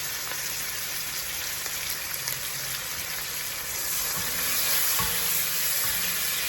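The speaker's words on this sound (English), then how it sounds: "Melt my butter, and I'm gonna add my onions right in." Onions sizzle in melted butter in a pan for creamed spinach, a steady close-up frying hiss that swells slightly toward the end, with no talking.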